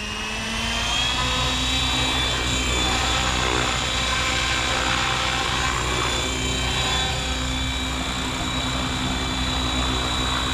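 A radio-controlled helicopter with a Spektrum 6250HX flybarless system spools up its rotor for flight, giving a loud, steady, close high-pitched whine with a constant buzzing drone throughout.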